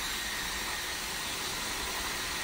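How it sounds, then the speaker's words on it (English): Hair dryer on its cool setting blowing steadily and close, a continuous broadband airflow hiss used to flush powder from freshly cut long layered hair in a salon. "get it flushed out with the dryer"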